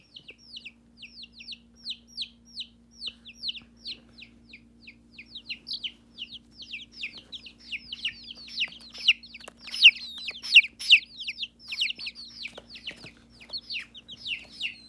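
Pet baby chickens snuggled in a bed give a steady run of close, high peeping chirps that grows denser and louder toward the end, over a faint low hum.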